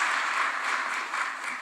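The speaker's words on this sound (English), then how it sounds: "Let's welcome him with a warm clap." A conference hall audience at an international nuclear energy conference in Nairobi gives warm applause to welcome a speaker, a close, loud, continuous clapping burst lasting under two seconds.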